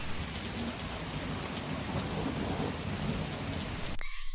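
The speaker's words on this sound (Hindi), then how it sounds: "आसमान से बूंदें गिरती हैं, बिजली चमकती है।" Heavy rain pours steadily with a rumbling thunderstorm in a horror story, a dense loud downpour that cuts off abruptly near the end.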